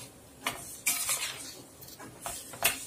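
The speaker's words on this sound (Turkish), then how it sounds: "Şimdi bunu böyle bu şekilde karıştırıyorum." A spoon stirs sauce seasoned with lemon salt in a pot, making a few soft scraping strokes and light clinks against the pot, quiet and close.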